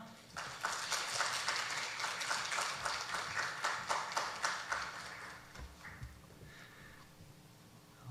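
Big round of applause in a Korean church youth service as a visiting missionary is welcomed to the front, dense continuous clapping from a congregation that stays loud for several seconds before thinning out near the end.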